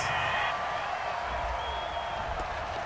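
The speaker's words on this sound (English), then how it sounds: "Some boos coming down right now from this home crowd after that call." A home crowd in a Madden football video game boos after a penalty call on third down, a steady wash of massed voices that holds at an even level from start to finish with no clear speech on top.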